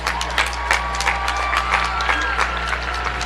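The Middletown High School Class of 2025 applauds at its graduation ceremony. Clapping and crowd cheering fill the space, steady and fairly loud over a low hum, with voices in the mix.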